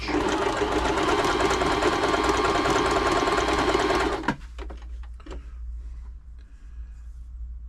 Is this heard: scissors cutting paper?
no